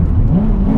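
Honda Civic FD2 Type R engine on the Nürburgring, heard from inside as a loud, close, steady drone for under a second, no talk.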